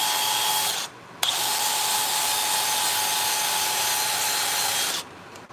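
Sandpaper is held against a spinning turned wood piece on a lathe to strip off old wax, giving a steady loud rushing hiss that stops briefly, resumes, then cuts out near the end.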